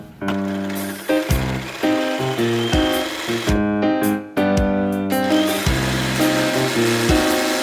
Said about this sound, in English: We're just straight stitching down